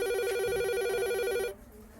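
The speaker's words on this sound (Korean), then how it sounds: "부장님 전화가..." An office telephone rings with a steady electronic warbling tone, loud and close, then cuts off abruptly partway through, leaving quiet room noise.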